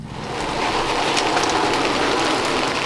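Steady rain hisses down evenly and fairly loudly at a snowy forest campsite in the Pacific Northwest in winter, without talking.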